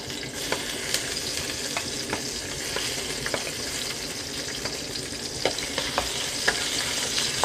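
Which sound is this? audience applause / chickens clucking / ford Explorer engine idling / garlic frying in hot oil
garlic frying in hot oil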